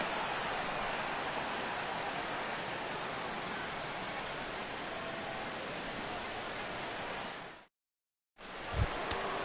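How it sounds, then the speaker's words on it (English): Steady rain pours down at a White Sox versus Mariners baseball game in Seattle, a dense, even hiss that runs unbroken for about eight seconds, stops abruptly, then resumes briefly with a faint knock. "as the rain continues to fall here"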